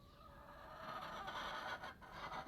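Backyard hens cluck in a steady, overlapping chorus at moderate distance in an outdoor garden in spring, with no talk over it.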